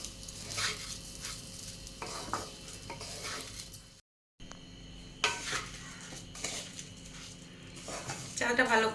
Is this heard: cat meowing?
no